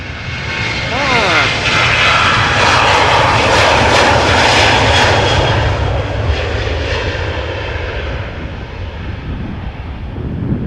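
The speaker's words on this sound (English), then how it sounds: "blue-nosed SkyTeam livery 737-900 going to Birmingham" Boeing 737-900 jet in blue-nosed SkyTeam livery at Amsterdam Schiphol airport, a loud, steady engine roar that holds for most of the span and slowly eases toward the end.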